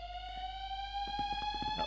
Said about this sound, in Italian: È scattato l'allarme.